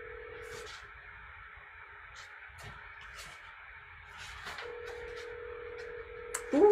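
A telephone number is keyed in on a phone, a series of short DTMF beeps at an uneven pace over a steady dial tone, faint and alone with no talk.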